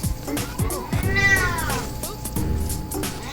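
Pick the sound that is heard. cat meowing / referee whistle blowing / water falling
cat meowing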